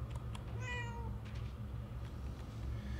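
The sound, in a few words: cat meowing in video game Murdered: Soul Suspect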